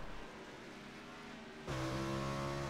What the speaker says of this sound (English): And you can hear Thompson, I don't know if you hear him throttling through the turn.